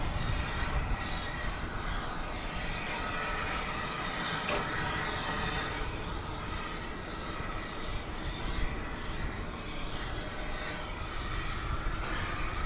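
An airplane engine roars steadily and loudly at DFW Airport at night, a broad continuous rumble and whine across the whole stretch with no pause.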